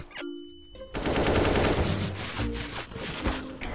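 Sustained automatic rifle fire in the game CS:GO, a loud rapid burst that rattles on for most of the moment and then breaks into shorter sputtering volleys, with no talk over it.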